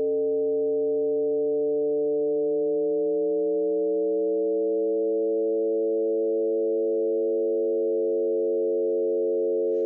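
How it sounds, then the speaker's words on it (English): A sustained synthetic musical note holds steadily for about ten seconds while its lower tones glide and drift apart, so the single pitch seems to split into several, heard alone with no talk and ending abruptly. "The single note sounds like it splits into many."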